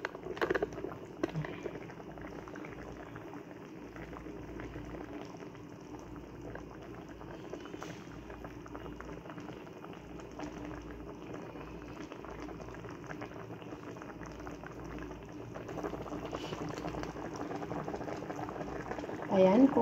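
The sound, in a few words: pochero broth boiling in a pot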